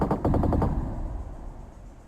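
Rapid bursts of X-wing blaster cannon fire in a Star Wars video game ring out in a quick rhythmic volley, then fade into a low rumbling tail.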